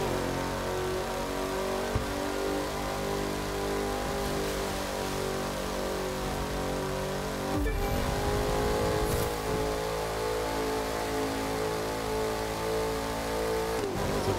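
A Ford Mustang Fastback in the racing game The Crew 2 drones at high revs, its engine note loud and steady, dipping briefly around gear shifts, with no talk over it.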